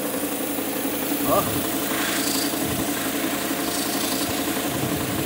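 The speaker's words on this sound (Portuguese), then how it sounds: "Vazando ar aqui, ó, no escapamento" Idling Fiat Ducato van engine with an air leak at the exhaust, giving a steady low rumble and hiss close by while someone talks over it.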